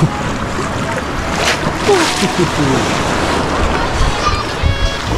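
Sea waves wash and break continuously along the beach at San Vicente, a steady rushing surf blended with gusty wind buffeting the microphone, fairly loud and close throughout.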